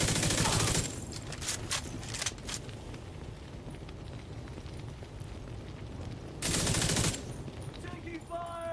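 Rapid bursts of video game gunfire rattle out, first at the start and again near the end, with a quieter stretch in between.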